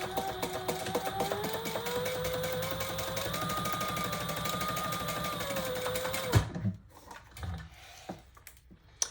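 Sewing machine back stitching a wallet: a steady close whirring run of stitches with a shifting motor tone that stops abruptly, followed by a few faint handling clicks.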